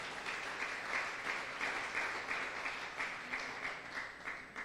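A church congregation applauding during a Messianic rabbi's sermon, steady broadband clapping throughout, moderately distant and fairly quiet, with no talk over it.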